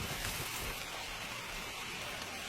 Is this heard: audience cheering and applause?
no